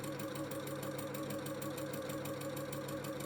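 A sewing machine quilting with a quilting foot hums close and steady, its needle stitching in a fast, even mechanical pulse of regular repeated beats, with no talking.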